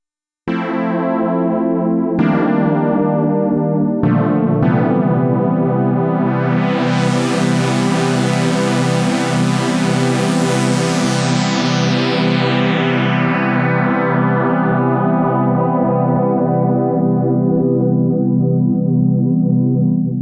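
A sustained ASM Leviasynth chord rings out after a few short stabs, thick and buzzing with added drive, its bright overtones swelling then slowly fading into a dense drone.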